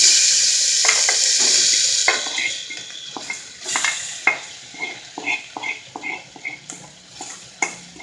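Mutton liver masala mixture sizzling in oil in a pressure cooker, a loud close hiss at first that fades into intermittent spoon scrapes and clanks against the metal pot as it is stirred.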